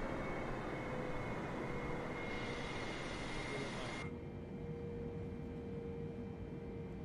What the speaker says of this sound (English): listen to the difference in the Boeing and the Airbus and the callouts